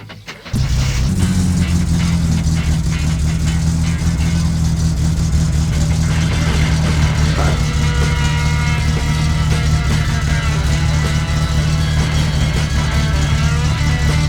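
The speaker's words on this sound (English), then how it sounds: "Car's running good," A video game car engine rumbles loudly and steadily, holding a deep idle with slight swells of revving throughout.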